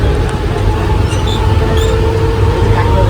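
Inside a crowded moving commuter train, a loud constant low rumble of the carriage with faint background voices and occasional squeaks.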